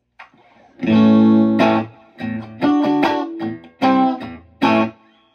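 Distorted electric guitar chords strummed in short bursts through an amp with digital reverb, each chord ringing out with a wash of reverb tail.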